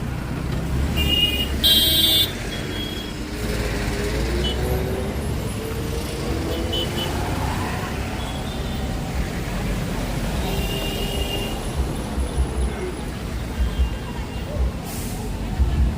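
Heavy traffic jam at Karjat: a steady rumble of idling engines and passing vehicles, broken by a few horn blasts, with a voice speaking over the din.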